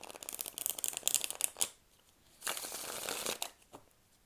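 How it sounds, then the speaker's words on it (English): Deck of old tarot cards, some dating from 1890, riffled and shuffled in two close bursts of crisp flapping and slapping with a short quiet gap between, heard alone. "So we'll just go ahead and shuffle up and get started."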